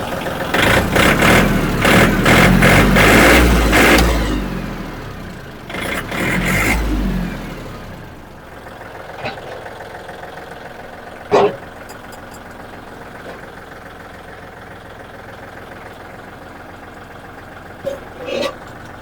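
Siam Stora tractor engine running steadily, loud and near at first with rougher revving bursts, then settling to a quieter idle with a few sharp knocks.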